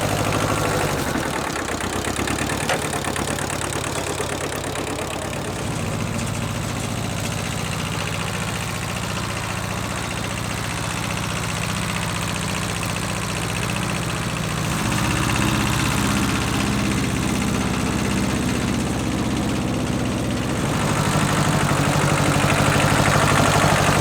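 A property tractor's engine idles steadily for the whole stretch, a close, continuous low rumble that holds an even level, with a slight shift in tone partway through and no talk.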